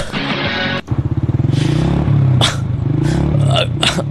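A motorcycle starts up and idles with a rapid, pulsing engine putter that swells into a steadier throaty drone, loud and close, used as an effect in a Bisaya radio drama, with short bursts of talk over it.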